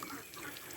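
Water runs steadily from a tap into a duckling enclosure, a short continuous splashing hiss with no voices over it.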